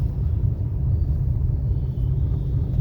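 A car under way during a driving lesson gives a steady low engine rumble that stays constant and fairly loud from inside the cabin, with no clear rise in pitch and no talking.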